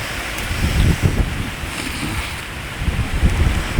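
Cool wind blowing outdoors at a fish grill, a steady loud rushing buffet on the microphone with gusty low rumbles throughout and no clear voices.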